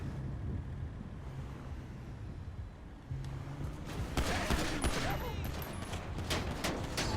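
Gunfire during a police patrol, a cluster of sharp shots and crackling bursts in the second half over outdoor wind and background noise, with voices faintly present.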